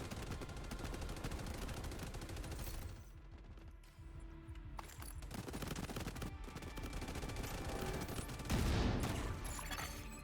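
Rapid, sustained gunfire in a video game as the player shoots at hostile turrets, dense bursts of shots running almost the whole time with a brief lull midway and a heavier blast near the end.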